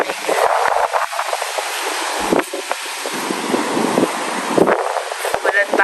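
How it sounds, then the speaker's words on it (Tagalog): Strong wind in Tagaytay buffets the microphone in gusty bursts, a loud rushing roar with low thumps that rises and falls over several seconds. "Sobrang hangin."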